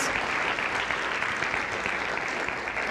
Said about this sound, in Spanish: ¿Puedes darle un aplauso a Dios?